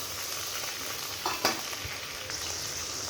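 Ground spices (salt, turmeric, cumin powder, dried chili powder) frying in a pan give a steady hiss and sizzle, with a brief louder burst and a stir as water goes in.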